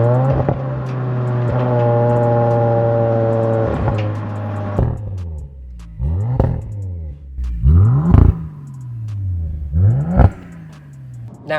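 An Audi RS fitted with the optional RS sports exhaust, in carbon black edition spec, holds a steady engine drone, then drops into a run of loud, close burbles and sharp irregular pops, with no talking.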